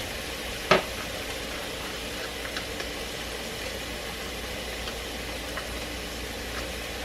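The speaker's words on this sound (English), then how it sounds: "we're also going to add in about 3 cloves of garlic" Three garlic cloves cooking in a pan for cheese ravioli with basil, tomatoes and asparagus, a soft steady sizzle with a sharp clack of a utensil early on and a few light taps.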